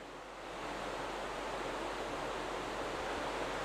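The water deluge system at a Starship launch pad sprays just before liftoff, a dense, loud, steady roar of rushing water that swells within the first half second and then holds constant.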